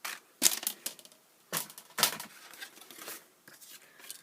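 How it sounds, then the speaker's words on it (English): Paper trimmer slicing through card, a few sharp close cutting swipes and clicks with quiet pauses between them. "lay it in at 1 inch on this side of the trimmer, and just cut"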